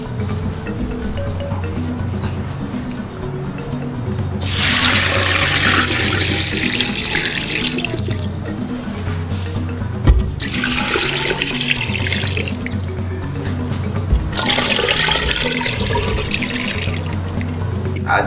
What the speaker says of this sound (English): Adding your water.